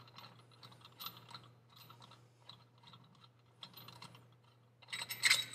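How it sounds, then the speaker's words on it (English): Bolt being unthreaded from the primary clutch of a Can-Am Defender, giving rapid ratcheting clicks in bursts with short pauses, closing with a louder, busier ratchet run; fairly close and moderately quiet. "just continue through the threads until you get your bolt completely out"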